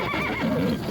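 A horse at a livestock market in At-Bashy lets out a close, loud whinny, its wavering pitch rising and falling through one short call.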